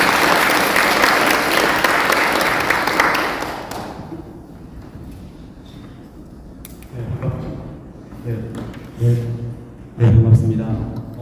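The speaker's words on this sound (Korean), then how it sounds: "김정민 박사님 힘찬 박수로 환영해 주시기 바랍니다" An audience applauds to welcome a speaker at a Korean lecture event, loud dense clapping that fades after a few seconds, followed by a few scattered thumps and a voice speaking.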